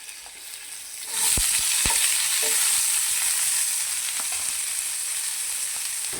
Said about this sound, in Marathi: आपला कांदा भाजतोय